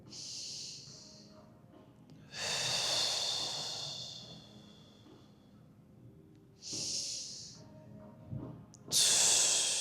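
Slow, deep breaths during a full-body stretching and mobility session, four long airy inhales and exhales, close and fairly loud with quiet pauses between them.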